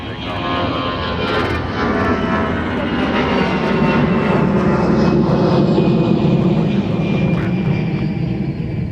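Delta jet N347NB takes off from runway 30 left at MSP, a loud sustained engine roar with a thrumming low rumble and a faint high whine, steady and continuous throughout.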